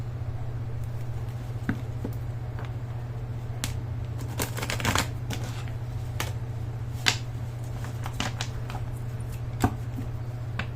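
A Cigano (gypsy) card deck is handled and drawn from, giving soft, scattered papery clicks and flicks close by over a low, constant electrical hum.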